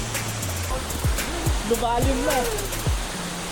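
Amador Falls at Infanta pours in a steady, full rushing roar, and a person talks and whistles briefly over it at close range.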